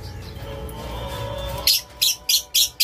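A hen parakeet in a mini aviary gives four short, bright chirping calls in quick succession after a stretch of low background hum, each call close and fairly loud.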